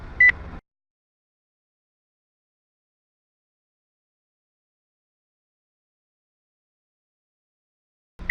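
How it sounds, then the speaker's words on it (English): A machine gives two short, high electronic beeps, one at the very start and one at the very end, separated by a long stretch of silence. "The machine begins to beep louder for reasons I do not know."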